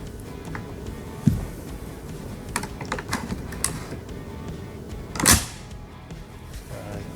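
A King Arms M1 Carbine gel blaster with all-metal parts has its bolt worked, giving a few scattered mechanical clicks and one louder metallic rack, close and fairly quiet.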